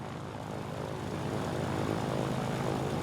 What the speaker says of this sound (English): You can hear the Bristol engines purring away.